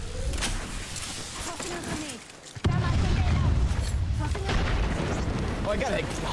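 Grenade blowing up in an Apex Legends firefight, a sudden loud blast near the midpoint followed by rumbling gunfire and battle noise, with players talking over the action.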